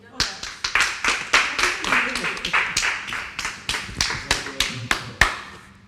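Housemates clapping together in a room, distinct claps in a roughly regular rhythm, fairly close, with voices talking underneath.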